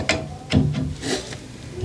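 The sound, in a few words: threading a steel pipe fitting with an adjustable wrench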